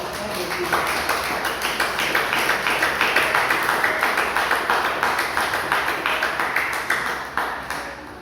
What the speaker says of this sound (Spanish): Denle un fuerte aplauso al Rey de Dios